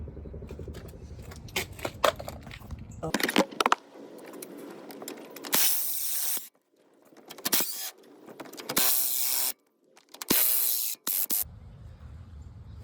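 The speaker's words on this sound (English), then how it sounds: "So next we're going to pop off the 3 bolts for the strut and spring." A ratchet loosens the three strut and spring bolts on a 2004 V8 Lincoln Town Car, giving rapid clicking bursts separated by louder spraying or whirring passes, close and alone without talk.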